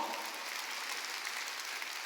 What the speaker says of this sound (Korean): 누가 박수 치래서 치려면 세게 좀 쳐